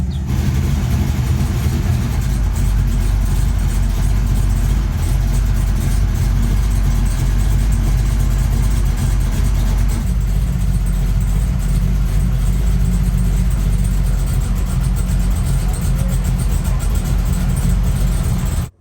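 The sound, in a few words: 1986 Camaro Z28 rebuilt 350 engine running, first start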